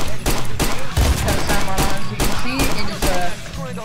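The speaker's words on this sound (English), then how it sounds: "I got some dude shooting at me" Weapons fire rapidly in GTA IV, loud repeated bursts of gunshots in quick succession, sometimes overlapping with a voice talking.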